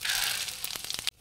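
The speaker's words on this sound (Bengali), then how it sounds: "তেল গরম হয়ে গেছে, আমি এখানে গোটা গরম মশলা, শুকনো লঙ্কা, তেজপাতা, এলাচ, দারচিনি দিয়ে দেবো" Whole garam masala, dried red chillies, bay leaf, cardamom, cinnamon and cumin hit hot oil for tempering, giving a loud, bright hiss and crackle for about a second before cutting off sharply.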